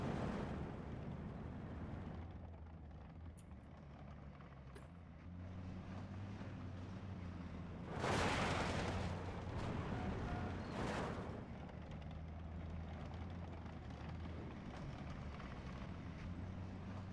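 Hummel self-propelled artillery firing in the Steel Division II video game, a heavy distant boom followed by a second blast a few seconds later, over a constant low rumble of battlefield ambience.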